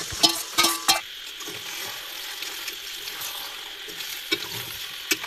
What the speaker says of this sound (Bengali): এখন আমি দিয়ে দেবো মাংস।